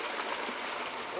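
Natural hot spring water runs in a steady, close rush under a built roof at a village spring along a mountain expedition route, with an even, broad wash continuing throughout.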